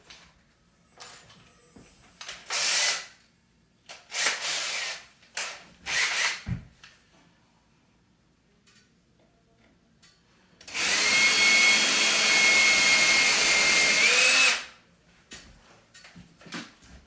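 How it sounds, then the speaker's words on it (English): Light knocks and handling noises, then a power drill whirs steadily for about four seconds before stopping, pre-drilling a screw hole while fixing a grandfather clock's sound board. "I've got a mark now that I can pre-drill for my screw"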